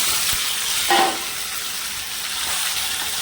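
A steady, close sizzling hiss of a tempering frying red in hot oil in a pan for raw mango chutney continues throughout, with no talking.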